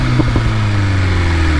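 BMW M1000RR superbike with a flashed ECU, its engine droning loud and steady at high revs, with a couple of brief throttle blips near the start.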